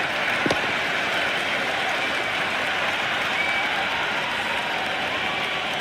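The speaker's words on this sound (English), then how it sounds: "There's a almost tangible fervour throughout the crowd at the moment." A large cricket stadium crowd during an India vs England T20 match roars and applauds steadily after a six is hit, a dense, continuous wash of cheering and clapping with commentary faintly beneath.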